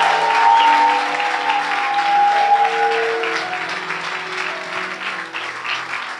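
A church congregation bursts into applause and acclamation, a full sustained wash of clapping with raised voices and cheering, fairly loud and tapering slightly toward the end.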